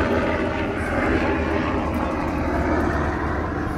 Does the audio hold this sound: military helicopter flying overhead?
yes